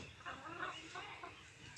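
Chickens clucking together on a hot day at a home during Eid al-Adha, a steady run of soft clucks and calls, close by and fairly faint, with no talk over them.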